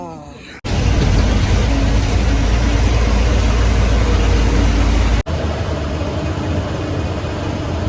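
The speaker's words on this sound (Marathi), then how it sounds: "एसटीचा आवाज येत आहे" A state transport bus pulls up in heavy rain, its engine a loud, steady low rumble that fills the scene at close range.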